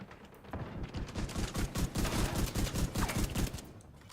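Enemy shotgun fire in a video game, rapid repeated blasts in a fast irregular barrage lasting a few seconds, fairly close and loud, with no talk over it.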